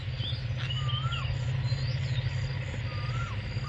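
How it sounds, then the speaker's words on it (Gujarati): A koel calls at dawn over farm fields near Botad, a few clear whistled notes rising and falling at moderate distance above a steady low hum and insect buzz. "કોયલું બોલે છે."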